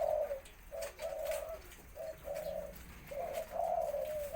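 A zebra dove coos in short repeated phrases, clear and close, with brief pauses between each run of notes over faint background noise.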